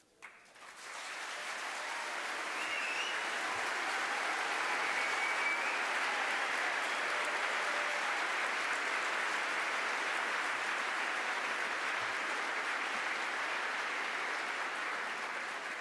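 A hall audience at a 2004 panel discussion on the United States and Iraq gives sustained applause, an even, distant-sounding wash of clapping that swells in and holds steady for about fifteen seconds.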